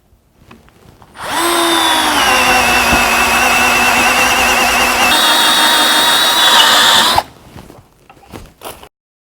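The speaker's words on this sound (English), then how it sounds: "The maximum drilling diameter into wood is 19 millimeters" Bosch GSR 1080-2-LI cordless drill bores into wood with a loud, continuous motor whine lasting several seconds, its pitch shifting slightly as the bit cuts, before cutting off abruptly into quiet clicks and handling noise.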